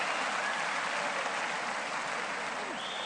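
Steady applause from a boxing crowd after a round, a dense continuous hiss of clapping filling the arena at even loudness, with faint voices mixed in.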